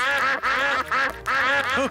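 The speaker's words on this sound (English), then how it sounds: "Here come more ducks." Cartoon ducks quack loudly and close in four rapid bursts of repeated, nasal calls, with brief gaps between them as a whole flock of animated ducks arrives at a picnic.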